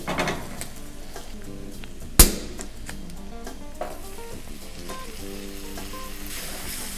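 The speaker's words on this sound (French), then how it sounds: "Donc après 5 minutes de cuisson, nous allons déglacer au champagne" Champagne poured into a hot cooking pan to deglaze it: a bright, steady sizzle with one sharp metallic clank near the start, then lighter stirring scrapes as the liquid bubbles.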